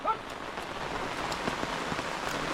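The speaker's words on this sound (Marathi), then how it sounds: "पाऊस आला" Steady rain falling over a Konkan paddy field during traditional rice transplanting with bullocks, a dense, even patter that continues without a break.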